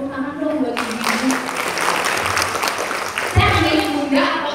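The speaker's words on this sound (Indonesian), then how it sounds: "Tepuk tangan dong buat ibu-ibu." An audience at an Indonesian teachers' storytelling seminar bursts into applause for the mothers present, a dense clapping roar lasting a few seconds, with a presenter talking before and after.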